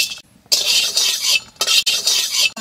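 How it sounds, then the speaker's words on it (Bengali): Whole garam masala spices dry-roasting in a pan make loud, close bursts of rattling and scraping as they are stirred, broken by short pauses and with no talk. "গরম মশলা ভেজে নেব"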